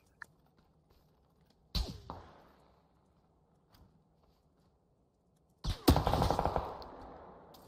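Gunfire in an M24 sniper rifle match in a video game: two loud, sharp shots several seconds apart, each with a ringing decay, over a quiet background.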